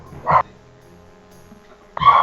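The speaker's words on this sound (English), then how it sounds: "I just gotta shut up the dogs real quick" Two loud, close dog barks, one at the start and another about a second and a half later, with near silence between them.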